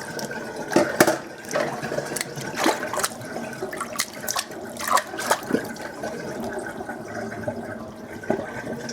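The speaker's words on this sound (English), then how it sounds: "Alright, just going to drain the water." Starchy, cloudy soaking water drains from cut potatoes in a kitchen sink, a steady close gurgling rush of liquid with splashy bursts and drips throughout, no talking.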